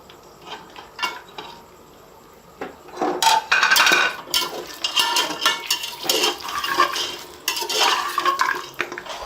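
Goat trotters dropped into hot oil in a pot clatter against the metal, then sizzle and crackle in bursts as they are stirred, with scraping of utensils.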